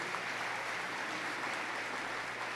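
A church congregation applauds, a steady wash of clapping from many hands heard from a distance, faint and even throughout without any voices.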